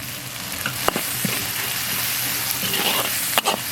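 Loud, steady sizzle from a hot wok as Sichuan peppercorns and numbing peppercorns are added to frying chili sauce, bean paste, hotpot base, scallion, ginger and dried chilies, with a couple of sharp scraping stirs.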